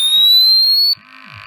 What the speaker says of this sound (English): With a single push of the button, the POLI tests all the alarm functions